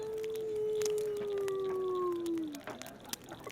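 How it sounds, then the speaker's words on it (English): A single long, sustained howl drifts through a forest setting, holding a steady pitch before sliding downward and fading, followed by faint rustling and clicks. "you hear another howling sound"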